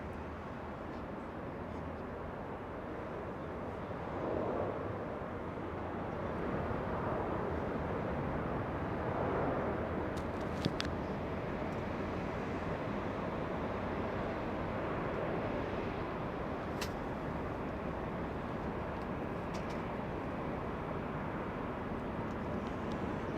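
Jet airliner arriving at Los Angeles International Airport, a steady, fairly faint roar of engine and wind noise that swells gently and holds through the whole stretch, heard from a distance at the airfield with no talk.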